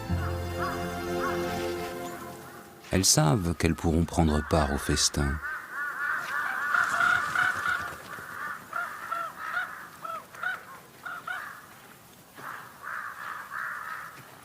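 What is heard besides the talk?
blue magpies and crows calling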